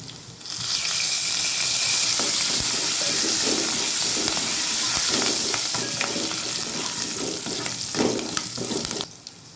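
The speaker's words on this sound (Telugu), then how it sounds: "వెల్లుల్లి రెబ్బలు కూడా ఫ్రై అయినాయి ఇప్పుడు కరివేపాకు పెట్టుకున్నాం" Loud, dense sizzling of curry leaves dropped into hot oil with fried garlic cloves, a bright continuous hiss with small pops, close up, no voices.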